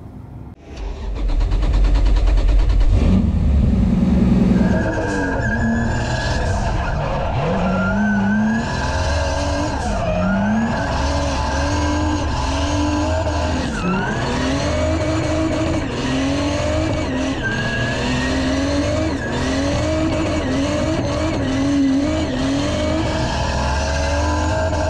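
Drift cars at the Swedish Drift Championship, with loud, sustained engines revving and rising and falling through the full stretch, along with tire squeal and skidding, with no one talking.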